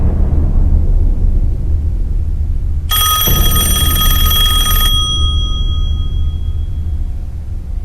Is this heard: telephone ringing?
yes